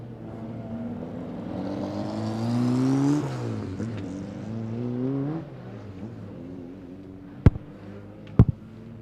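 Stock cars race on a track: an engine roar swells to a loud pass with a falling pitch, fades into a distant drone, then two sharp bangs ring out.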